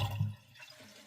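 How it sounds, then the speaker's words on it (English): Toto toilet tank refilling after a flapper valve change, water rushing in loudly at first and then settling into a softer, steady trickle nearby. "Now it's gonna fill up the water."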